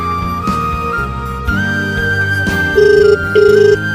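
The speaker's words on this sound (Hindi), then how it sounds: "लागल बा फोन फेकुआ के" A phone ringtone chirps in two short repeated bursts near the end, over a steady musical background.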